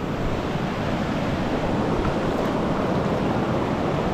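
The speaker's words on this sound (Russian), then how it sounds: "здесь это речка, очень чистая вода" A clear mountain river in Pakistan rushes in a steady, dense broadband roar, continuous and close, with no voices.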